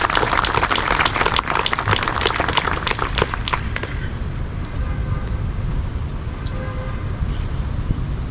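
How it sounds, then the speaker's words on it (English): Crowd at an outdoor Memorial Day ceremony claps in a burst of applause that fades after about four seconds into a loud, rumbling open-air background with wind or traffic noise. "Please give him a round of applause"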